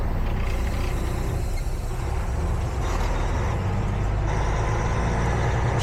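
A 2023 Kenworth W900L truck rolls along with a loud, steady low engine drone and road rumble filling the cab, broadband noise constant throughout with no talking.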